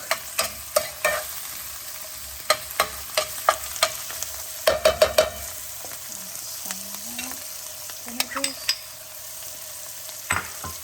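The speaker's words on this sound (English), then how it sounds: "Increase the heat, let it cook." Green chilies, ginger and tomatoes cook over raised heat in a pan for South Indian upma, with a steady soft sizzle and scattered sharp clicks of stirring and the spoon striking the pan.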